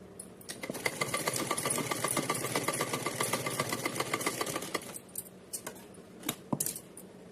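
A sewing machine runs steadily for about five seconds, stitching a folded, finished edge on a Radha Rani poshak dress, then stops, followed by a few light clicks and handling knocks.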